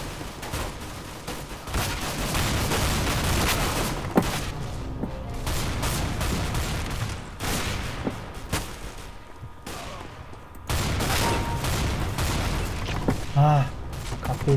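Bursts of rapid gunfire crackle repeatedly in the video game Counter-Strike: Global Offensive, with a steady background din throughout.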